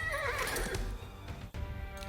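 Horse neighing in the real-time strategy game Age of Empires IV, a loud whinny with hooves clip-clopping beneath, over steady battle ambience.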